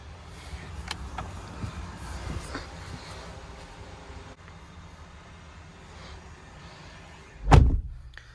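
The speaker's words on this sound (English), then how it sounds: "The door has a really nice thunk to it" One solid door of a 2020 Chevrolet Silverado Trail Boss pickup slams shut with a deep thunk, following a stretch of quiet rustling and faint background noise.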